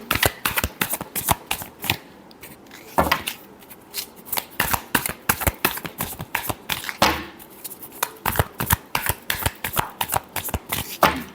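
Tarot cards shuffled by hand in a rapid series of crisp, riffling flicks and slaps. The bursts are close and fairly loud, with brief pauses between them and no talking.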